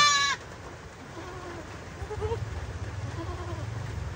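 A newborn native goat kid gives a short, thin bleat at the very start, followed by soft low rustling and faint animal sounds close by.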